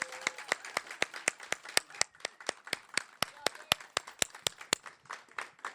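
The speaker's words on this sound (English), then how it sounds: "So one more round of applause for her." Sparse, rhythmic handclaps at an open mic poetry event, a few individual claps spaced evenly in a steady beat, fairly faint with some quiet voices beneath.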